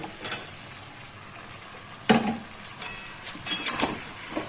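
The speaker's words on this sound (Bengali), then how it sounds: "এবার আমি এর মধ্যে দিয়ে দেবো বেগুনগুলো" Eggplant pieces tipped into a pot of boiled potato and carrot for a Bengali summer vegetable jhol, with a few distinct clattering, scraping bursts of pot and utensil over a quiet background and no talking.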